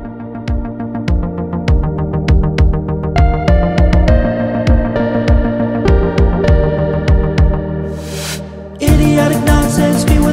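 A finished, mixed and mastered song plays back as a full arrangement with steady, punchy drum hits under sustained harmony, briefly thinning near the end before a louder, brighter section kicks in.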